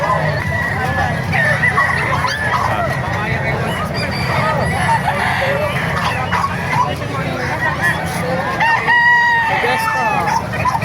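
Roosters crow repeatedly amid clucking chickens, a busy flock close by in Calumpit, Bulacan, with people talking and a vehicle rumbling underneath.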